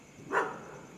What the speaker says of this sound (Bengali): রাস্তার কুকুরগুলো দূরে ঘেউ ঘেউ করছে